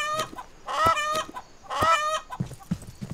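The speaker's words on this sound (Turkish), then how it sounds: "Tavuk ordusu." Several chickens cluck and squawk in a farming video game, in two loud bursts of layered cackling followed by softer scattered clucks, with no talk over them.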